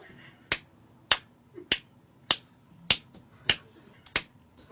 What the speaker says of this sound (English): Please clap the amount of corresponding to your selected floor.